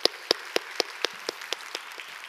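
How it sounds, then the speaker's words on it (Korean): Claps of thanks ring out in a Korean church worship service, about ten sharp, evenly spaced claps in a steady rhythm, fairly faint, with no talking. "우리 감사의 박수 올렸으면 좋겠습니다"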